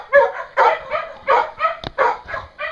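Dogs bark close by in a rapid series of loud, sharp woofs and yips, about eight bursts in under three seconds with a brief knock in between.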